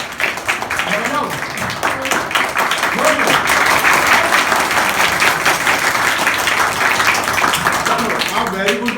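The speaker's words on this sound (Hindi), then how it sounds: "अब अपने लिए ताली बजाओ, अपने लिए, खुद के लिए" Schoolchildren in a village school classroom clap for themselves in a loud, sustained burst of applause, with children's voices mixed in throughout.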